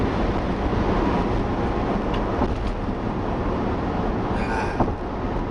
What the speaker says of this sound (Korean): 엔진 소리가 전혀 들리지 않죠. 들리는 건 바람 소리 뿐입니다